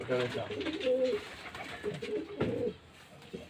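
Pigeons coo repeatedly in low, throaty rolls, fairly close, mixed with faint background noise and some soft voices.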